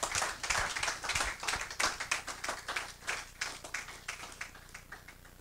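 A church congregation claps to acclaim Jesus, a run of sharp, fairly fast rhythmic handclaps at moderate distance that grows gradually softer toward the end.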